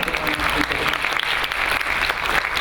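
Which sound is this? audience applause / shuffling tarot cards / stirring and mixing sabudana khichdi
audience applause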